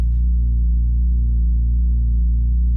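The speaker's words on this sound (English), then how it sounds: "I really like the bass patch that I created for this one as well" A deep, loud synthesizer bass note with saturation, sustained throughout with a gentle, regular pulsing throb and no other sounds.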